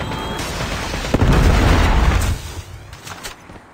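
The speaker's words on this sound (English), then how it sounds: "Friendly Predator missile inbound." Predator missile strike in Call of Duty Mobile, a heavy loud explosion that hits suddenly, roars for about a second, then fades into rumbling debris and game noise.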